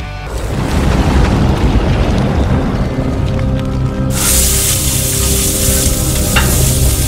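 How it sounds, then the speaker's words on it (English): Loud, steady sizzling and crackling from burgers frying on a hot griddle, growing brighter and hissier partway through, with no talk. "They're sizzling."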